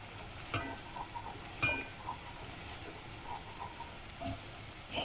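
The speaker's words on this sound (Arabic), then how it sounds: "البصلة داخلة على التحمير" Onion frying in oil gives a soft continuous sizzle, broken by a few light stirring scrapes at irregular moments. The sound is close but quiet, and nobody speaks.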